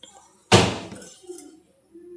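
One sharp metallic clank as a kadai (Indian frying pan) is set down on the stove, loud and close, followed by a brief scrape and then quiet.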